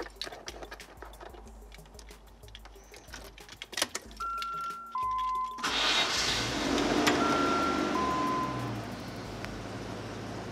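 A Land Rover Discovery 1 with a newly replaced steering box starts up for a road test: brief cranking, then the engine catches and settles into a close, steady idle, with warning chimes sounding and birds chirping in the background.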